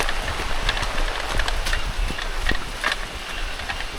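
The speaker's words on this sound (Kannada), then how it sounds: "ಹಾಗೆ ಮಳೆನೂ ಬಂತು." Steady rain patters on a hard surface nearby at a farmhouse, dense and continuous, with scattered sharper drips and taps throughout.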